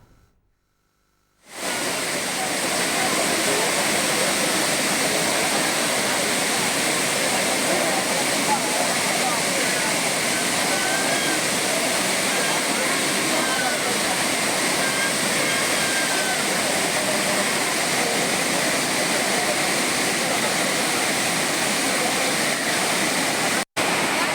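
The Courtallam waterfalls roar with a loud, continuous rush of falling water that starts abruptly and holds steady for over twenty seconds, a dense wall of noise as tourists bathe there, with no clear speech.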